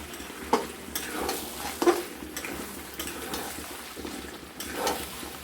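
Chicken kosha cooked without water, with softened tomatoes, sizzles in a pan while a spatula stirs and scrapes it in repeated, close strokes and occasional clinks against the metal.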